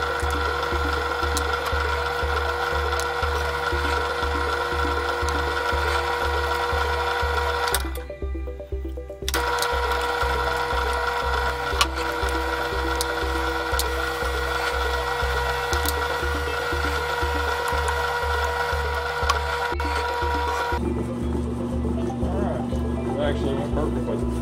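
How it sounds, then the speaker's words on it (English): A steady, grinding drill drone bores through a metal plate nearly nonstop, briefly cutting out once, then shifting to a lower, rougher tone near the end. "we're gonna start drilling out as much of the center as we can"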